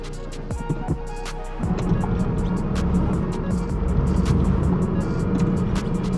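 A Honda Fit's engine revs up under acceleration: after a brief quieter start, a loud low droning hum swells and holds steady at close range.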